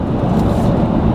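2014 Chevy Silverado big pickup truck accelerating hard, a brief, loud, steady low engine roar heard up close.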